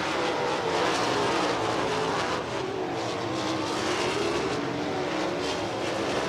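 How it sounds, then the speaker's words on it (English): USAC National Sprint cars roar together at Lincoln Park Speedway, a dirt track, as the field takes the green flag for hot laps, a dense, continuous engine drone that stays loud throughout. "Field goes to green in our final flight of Dirt Draft Hot Laps."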